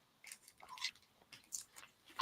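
A crunchy brown sugar molasses cookie being chewed close up, with sharp, crisp crunches in irregular bites and brief quiet gaps between them, the last crunch loudest.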